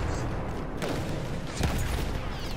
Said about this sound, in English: That explosion went off right next to my face.